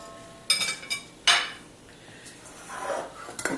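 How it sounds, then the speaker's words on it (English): A pan of browned butter is set down and moved aside with a few sharp metallic clinks and scrapes, separated by quiet pauses, close and fairly faint. "So I'm going to put the pan aside"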